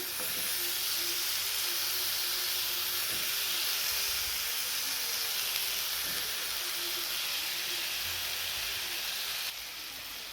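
Finely cut potato in a hot pan gives off a steady, loud hiss and sizzle that holds evenly throughout, close up, with no one talking.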